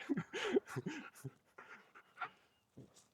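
A playful dog pants and huffs up close in quick, uneven bursts, mixed with soft whimpery vocal sounds that thin out and fade near the end.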